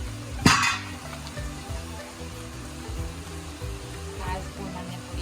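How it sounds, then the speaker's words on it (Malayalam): Onions sautéing with chili and coriander powder in a pan for fried-chicken biryani, a steady low sizzle with a brief louder stir or clatter near the start and soft scraping throughout. "ഉള്ളിയൊക്കെ ഇട്ട് വഴറ്റിയെടുക്കും"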